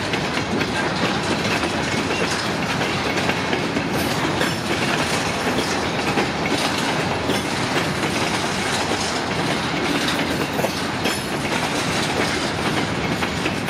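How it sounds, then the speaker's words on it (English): A long freight train pulled by a single engine rolls steadily past, wheels clicking and clacking over rail joints in a loud, continuous rumble with faint squeals. "It's a long train for one engine."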